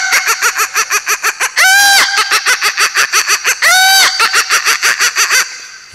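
A man vocally imitates a rooster crowing after a hen lays an egg: loud, rapid rhythmic clucking pulses broken by two long drawn-out crowing cries, close and alone with no other voices.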